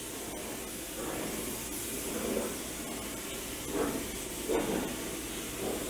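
Spray gun applying clear coat to a BMW F30 GTS hood inside an inflatable paint booth, a soft continuous hiss with repeated swelling bursts of spray, fairly faint.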